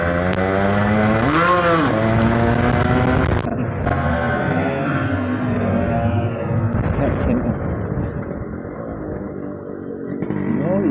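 A Yamaha RX100 and a Rajdoot motorcycle race along a street, two-stroke engines revving loudly and rising in pitch before easing into a rough, continuous drone, with speech faintly beneath.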